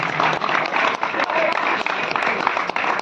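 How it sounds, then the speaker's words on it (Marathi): A crowd at a cricket tournament prize ceremony applauds continuously, dense clapping at steady loudness throughout, with a voice faintly audible beneath. "जोरदार टाळ्या."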